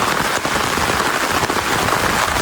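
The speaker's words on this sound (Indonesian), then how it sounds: "Hujannya deras." Heavy rain pours onto clay roof tiles in a village house, a dense continuous loud patter with scattered sharper drops, steady throughout and without speech.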